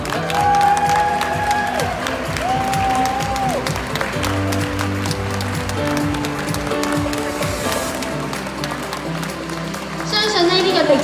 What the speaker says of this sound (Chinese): 接受大家嘅喝彩。